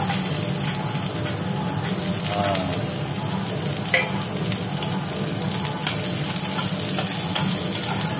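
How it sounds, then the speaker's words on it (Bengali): Onions fry in hot oil in a home kitchen, giving a steady, dense sizzle throughout, with occasional stirring scrapes and a low hum underneath. "হ্যাঁ পেঁয়াজ, এর মধ্যে পড়লো পেঁয়াজ।"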